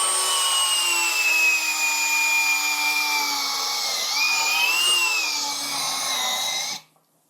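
Cordless drill driver bores into wood with the bit fully tightened while testing kickback control, a loud sustained whining motor tone that wavers under load for nearly seven seconds, then cuts off sharply.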